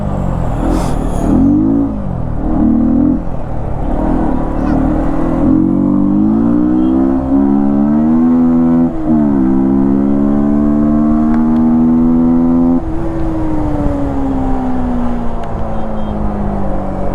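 Loud Yamaha MT15 motorcycle engine fitted with an open air filter, revving steadily with rising and falling pitch and a throaty, continuous drone that fills the whole stretch alone, without any talk.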